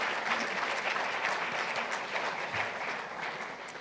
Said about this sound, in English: we should give a round of applause for David,